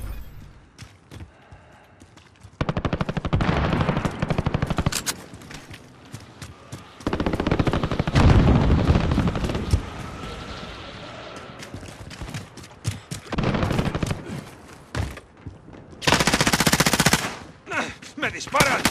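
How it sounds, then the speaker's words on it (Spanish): Gunfire in a first-person shooter video game comes in loud, rapid automatic bursts and fusillades separated by brief pauses, close and intense, with occasional quieter stretches between volleys. "¡Me disparan!"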